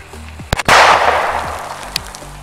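A sizable explosion from 50 grams of sodium reacting with water: a couple of sharp pops, then a loud close blast with a roaring burst that slowly decays, plus a later smaller crack.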